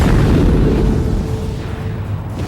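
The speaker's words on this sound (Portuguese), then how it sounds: "Isso significa que elas explodem e jogam todo o seu interior de volta para a galáxia." A deep, rumbling blast plays as a supernova star explosion sound effect, loud and sustained across the whole stretch and fading only slightly as it rolls on.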